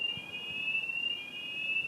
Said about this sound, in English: This is a planned fire alarm, like a fire drill.